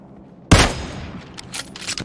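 A single loud, close rifle shot in PUBG war mode, likely from a Kar98, cracking sharply then trailing off into a rumbling echo, with fainter distant shots following and no talking.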